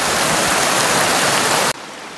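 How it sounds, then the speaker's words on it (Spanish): A mountain waterfall pours down from Laguna Balcón in Tierra del Fuego, a loud, dense, continuous rush of water close by that cuts off abruptly near the end. "La cascada que baja de la Laguna Balcón."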